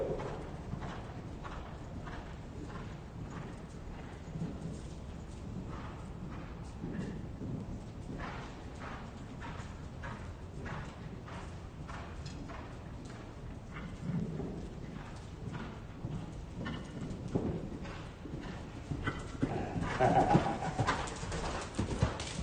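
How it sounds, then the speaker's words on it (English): At an outdoor riding clinic, horse hooves clip-clop in a steady rhythm of moderate loudness that approaches over time, with pigeons cooing in the background. "Let the horse come to you."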